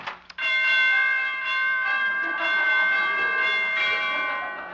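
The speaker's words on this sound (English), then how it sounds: "Door chimes need tuning." A single set of ringing door chimes sounds, out of tune, slightly clashing and sour in pitch, sustaining and slowly fading.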